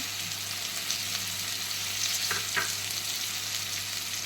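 Onions and green chillies fry in a pan with a steady, even sizzle, broken by a couple of brief stirring scrapes, close and constant without talk.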